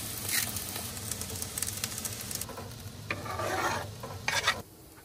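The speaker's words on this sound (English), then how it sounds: "mix that all together in a pan right here inside the camper" Bell peppers, onion and bratwurst stirred in a pan inside a truck camper during a snowstorm; soft sizzling with intermittent scraping bursts of the utensil, fairly quiet and close, no voices.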